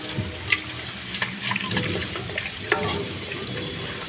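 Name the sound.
running tap water while washing dishes in kitchen sink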